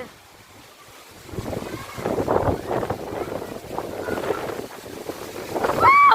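Gusty storm wind roars and buffets the microphone, building from quiet to a strong rushing sound that rises and falls in waves, with faint voices underneath.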